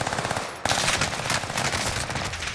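Rapid bursts of SMG fire in Call of Duty Warzone, with a brief lull before a sharp onset of dense, continuous automatic shots at close range and no voices.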